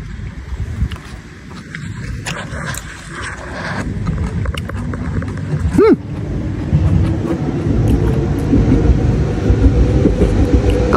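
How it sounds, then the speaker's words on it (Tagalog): A train passes nearby in a quiet outdoor spot, a loud rumbling and clattering roll that builds over the seconds, with a brief squeal partway through. "Ang maingay lang dito yung train."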